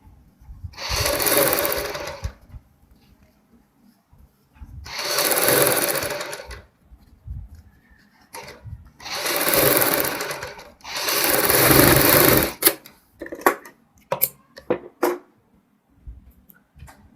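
A sewing machine stitches piping along a kurti neckline in four separate whirring runs of about two seconds each, with short pauses between them and small clicks and handling noises after the last run.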